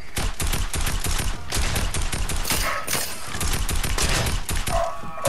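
Gunfire in the video game Fortnite, dense and continuous rapid automatic bursts overlapping at close range for the whole stretch, loud and unbroken, with no talk over it.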